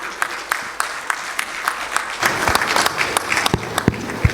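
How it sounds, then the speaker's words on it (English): An audience at a business trade forum applauds, brisk clapping from a moderate crowd that swells after a couple of seconds into fuller, denser applause with a few sharp individual claps standing out. "Let's keep the applause going."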